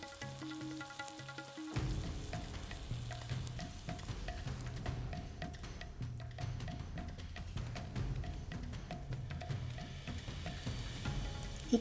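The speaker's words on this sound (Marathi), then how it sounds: "वाटण केलेले चांगले परतून घेऊया. मिरचीचा कच्चेपणा निघेपर्यंत थोडेसे फ्राय करून घ्यायचे." Ground chili paste for an okra bhaji fries steadily in a pan, a dense, even sizzle that starts abruptly after a short quieter opening and keeps going close up and fairly loud.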